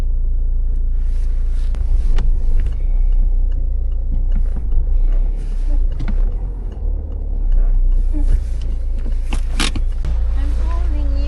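A car engine warming up at idle, a steady low rumble underneath with scattered clicks and knocks and a voice talking over it at times.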